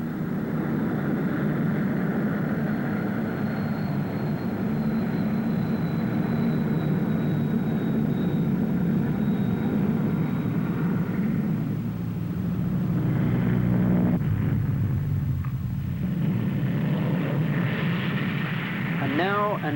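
A Vickers Vanguard airliner flying at the Farnborough air show, producing a loud, steady engine roar and rumble that carries on throughout and swells toward the end, with a narrator speaking over it.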